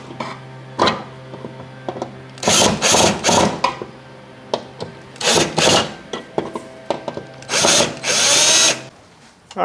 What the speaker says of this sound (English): then you can use the drill